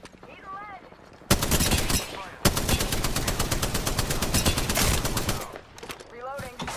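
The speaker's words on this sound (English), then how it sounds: "Opening fire." Automatic weapon fire in Apex Legends, heavy sustained bursts of rapid gunshots running for several seconds with a short break between them, loud and close.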